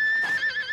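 A cartoon racehorse lets out a single short, loud whinny with a high wavering tone, close and clear, with no talking over it.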